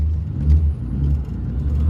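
A BMW E28 M5 with freshly rebuilt suspension and a reconditioned steering rack, out on a test drive in traffic: a steady low engine and road rumble from inside the car, with slight swells in level.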